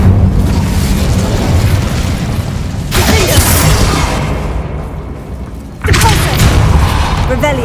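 The Incendio fire spell in a Harry Potter video game lets out heavy booming blasts, with a loud rushing burst followed later by a second sharp eruption over a continuous roaring background.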